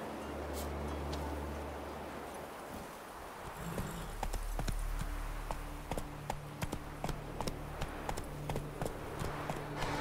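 Roach the horse gallops in The Witcher 3, a steady run of close hoofbeats over an outdoor ambience, with a low rumble underneath.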